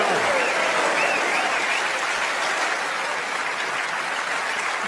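A snooker crowd bursts into loud, sustained applause after a trick shot, a dense even wash of clapping that holds steady throughout with a faint voice underneath.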